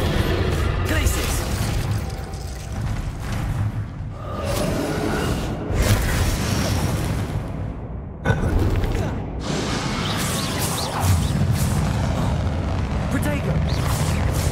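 Spell blasts from Confringo and Bombarda in the Hogwarts Legacy video game, loud booming bursts and whooshes in steady succession, with a voice calling out over the action.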